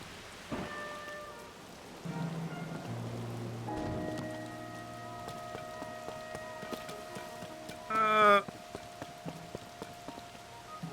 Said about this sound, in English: I'm assuming it's always raining here